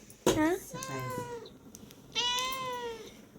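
A cat meows twice, a short cry followed by a longer drawn-out meow, close and clear against a quiet background.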